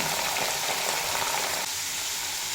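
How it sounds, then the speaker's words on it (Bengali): Papaya and potato pieces fry in well-heated oil, a steady dense hiss of sizzling that holds evenly throughout, close and fairly loud with no talking. "তেল খুব ভালো মতো গরম হয়ে গেছে এবার এই তেলেই ভেজে নেব পেঁপে"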